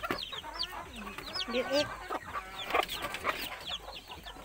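Young chickens cluck and peep in a busy, overlapping chorus of short calls close by, with someone speaking briefly among them.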